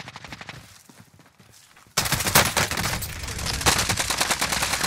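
Enemies positioned above fire on the player in Call of Duty. After two fairly quiet seconds, loud, rapid automatic gunfire bursts in and continues in close, rattling volleys to the end.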